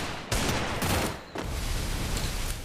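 Rapid bursts of automatic gunfire in the video game Garena Free Fire Max, loud and dense, coming in three quick volleys separated by short gaps.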